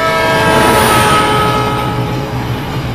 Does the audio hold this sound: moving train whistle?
yes